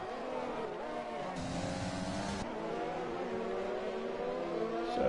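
Race cars speeding under green flag at Azerbaijan in a racing video game, with engines droning steadily at high revs and pitch shifting as cars close in and accelerate, plus brief tyre scrub near the end.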